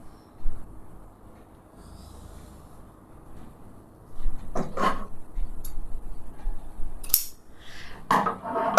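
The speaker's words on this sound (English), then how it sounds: "grab your handy dandy pair of scissors, and I'm just going to snip it away" Scissors snip through fabric during a simple garment alteration, a few sharp close cuts near the middle and end of the stretch, with quiet room tone between.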